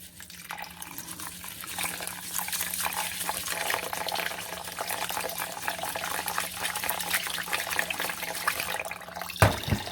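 Filtered tap water runs steadily into a pot of rice for its final rinse, a close, continuous splashing flow that ends with a brief knock at the end.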